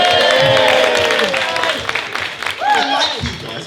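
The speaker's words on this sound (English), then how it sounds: "I've never had a round of applause for beating cancer before." An audience at a talk by a comedian applauds close by, with the clapping mixed with cheers and voices that fade into scattered claps and chatter.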